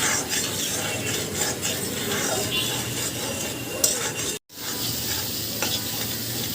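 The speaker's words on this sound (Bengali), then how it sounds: "পানিটা দিয়ে একটু নাড়াচাড়া করব।" A utensil scrapes and stirs around a frying pan holding spices and water, with steady sizzling underneath, close and continuous, broken by a brief silent cut before the stirring resumes.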